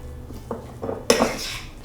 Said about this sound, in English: I'm just mixing it.